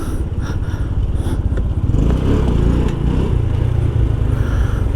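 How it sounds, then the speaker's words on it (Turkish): Honda NC 750 motorcycle passing on a street, a loud continuous engine rumble that swells slightly as it goes by, close and steady with no speech. "o motor güzelmiş. Neymiş bu? Honda. NC 750'ymiş."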